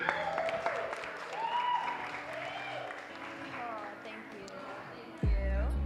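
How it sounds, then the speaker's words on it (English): Applause from a live audience for the hosts of a business podcast event, a moderate patter of clapping blended with a speaking voice and some musical tones, ending with a sudden loud thump. "Can we get a round of applause for them, please?"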